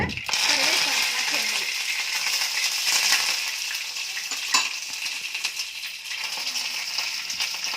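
Onion pieces dropped into hot oil with popped mustard seeds, giving a steady broad sizzle and frying hiss with light stirring and a clink of utensil against the pan throughout.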